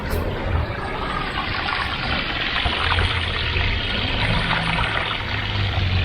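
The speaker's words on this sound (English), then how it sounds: "and a little water feature" Steady trickle of a small outdoor water feature running continuously at close range, a soft bubbling flow with no voices.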